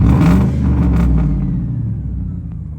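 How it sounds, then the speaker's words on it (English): Tenth-generation Ford F-150 truck on large tires gives a loud, short rev, a deep rumbling engine burst that swells then settles into a fading idle over a few seconds. "Let's see how they react to a little Larry rev."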